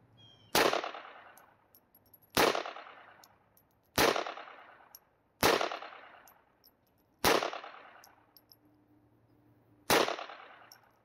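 Six sharp .22 pistol shots at a shooting range, fired one at a time at steady intervals of roughly one and a half to two seconds, each a loud crack with a short ringing decay.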